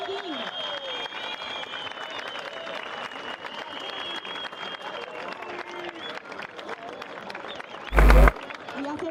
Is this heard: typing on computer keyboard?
no